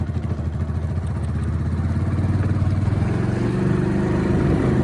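A motorcycle slows and turns at a bend on a rural track in Rajasthan's sandy dune country, its engine a close, steady throbbing drone that grows slightly louder toward the end, with no talking.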